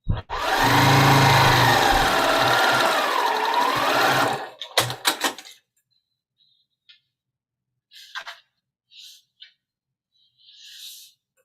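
Sewing machine stitching a stem onto a fabric pumpkin, running in one loud, close, continuous whirring burst for about four seconds, then stopping, followed by a few soft clicks and handling sounds amid quiet gaps.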